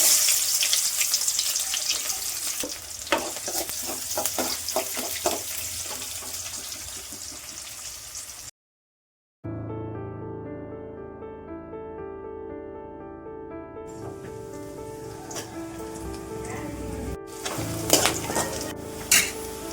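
Mustard seeds sizzle and crackle in hot oil for a fish curry, a steady frying hiss with scattered pops, interrupted briefly by a pause before bubbling continues alongside a stirred pan.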